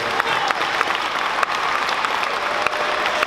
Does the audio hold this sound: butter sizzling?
no